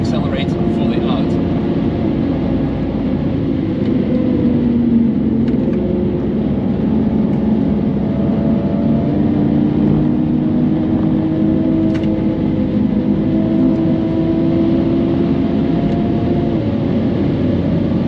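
A Toyota Supra MK5 held at full throttle while traction control cuts in, heard from inside as a steady loud engine drone with road and wind noise throughout, and a person talking over it.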